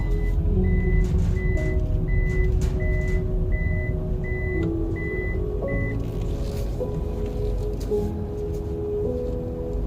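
A car's seatbelt warning chime repeats in a steady, evenly spaced series of short beeps over a constant engine and road drone inside the moving vehicle.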